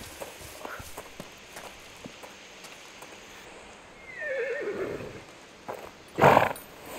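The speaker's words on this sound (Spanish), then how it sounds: "Los caballos." Horses in the video game A Plague Tale: Requiem whinny loudly twice, the second cry sharper, over soft hoof clip-clops and footsteps in a quiet outdoor scene.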